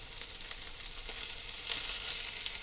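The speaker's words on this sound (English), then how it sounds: "turn the fish over and cook the fourth side" Salmon and asparagus fry in a single pan, giving a steady, soft, hissing sizzle with faint crackles throughout, close but quiet.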